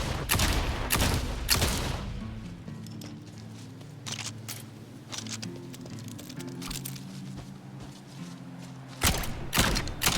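Rapid gunfire with fire bullets from the video game Wizard With a Gun, dense crackling volleys opening and closing the stretch, with sparser pops and a low musical backing in between.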